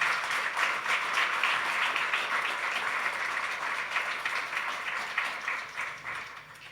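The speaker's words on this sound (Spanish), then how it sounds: "le invito a que le dé un fuerte aplauso al Señor." A church congregation applauds during a Spanish-language sermon, a sustained, dense wash of clapping from many hands that holds steady and slowly thins toward the end.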